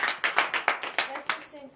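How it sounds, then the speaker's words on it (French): Hands clap rhythmically in acclamation at a morning prayer service in Comè, Benin. The crisp claps fall on a quick, steady beat about three per second, close to the listener, with voices mixed in. "Donnez l'acclamation à Jésus."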